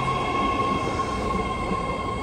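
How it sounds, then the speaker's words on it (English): A 10-car, 3-door BART Fleet of the Future train on the San Francisco–Daly City green line, heard close as a steady electric hum and whine with faint rolling rumble, no voices. "This is the 10-car, 3-door San Francisco, Daly City train."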